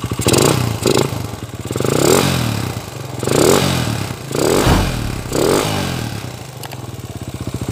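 A Honda TMX125 motorcycle engine converted to 200cc runs close by with a steady thumping idle, swelling into several brief throttle blips and settling back between them, with a faint mechanical clatter.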